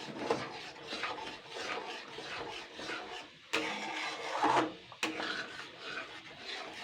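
A spatula scrapes and stirs thick cornflour Karachi halwa in a pan, giving continuous rasping strokes at close range with a couple of sharper knocks against the pan.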